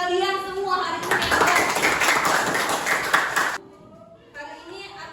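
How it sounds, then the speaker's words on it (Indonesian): Children in an art class clap their hands together in a brisk burst of about two and a half seconds, set between stretches of a teacher's voice. "Tepuk tangan untuk kalian semua hari ini."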